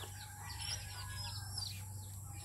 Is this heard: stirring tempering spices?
no